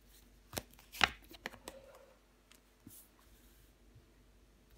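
Tarot cards drawn and laid on a table during a reading: a few soft, quick flicks and papery slaps close up, with the sharpest one near the start, then quiet handling.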